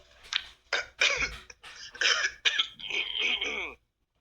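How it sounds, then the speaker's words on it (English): A series of harsh, raspy coughs and throat clearing, several bursts in a row close to the microphone, ending in a longer hacking cough. "I didn't cough until I got on here"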